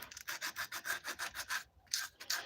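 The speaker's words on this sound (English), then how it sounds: "Yeah, sanding sucks." Hand sanding of carved wood, a rhythmic back-and-forth rasp of about a dozen close, steady strokes with a brief pause near the end.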